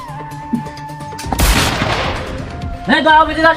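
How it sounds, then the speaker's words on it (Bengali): A sudden burst of loud gunfire cracks out for about a second and a half, fading into a rumble, between other loud sounds. "গুলি করে দিন কিন্তু"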